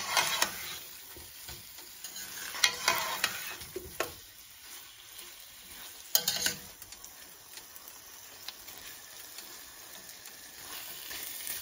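Arvi (taro) bhujia is stirred in a pan, with soft scraping and clinking strokes over a faint, steady sizzle, fairly quiet and close, with no voices.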